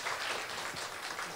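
An audience applauds to welcome a family at a Korean book concert, giving a brief, steady, dense wash of clapping from a crowd in a hall.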